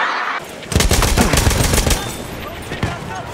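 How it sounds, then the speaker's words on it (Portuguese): Gunfire in the Battlefield 1 video game crackles loud and close in dense bursts, with rapid automatic fire and heavy reports layered over each other. "Abaixa, muito tiro."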